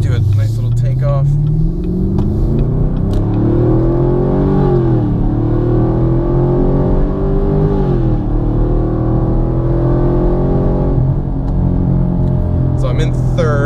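A Chevrolet Camaro (2016–2019) fitted with a Stainless Works exhaust pulls away and accelerates in third gear, its loud, steady exhaust note rising and falling in pitch across the run, with someone talking over it throughout.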